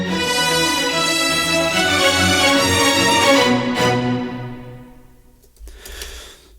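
Beat The Chasers theme tune, with trumpet, French horn and legato strings playing two melodies together, builds into a full, sustained orchestral swell. It thins out near the end, then a brief brassy burst follows.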